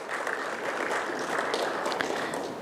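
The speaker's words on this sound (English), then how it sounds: "Can we have a big round of applause for Ms. Ashlesha?" An audience at a professional development event applauds steadily with dense, continuous clapping that holds at an even level throughout.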